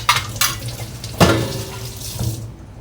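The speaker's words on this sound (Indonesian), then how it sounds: "Alatnya juga saya gocor air atau dicuci sebentar ya" A kitchen tool gets a quick rinse under a running tap ahead of halving limes, with water splashing loudly at first and then fading to a softer trickle before stopping.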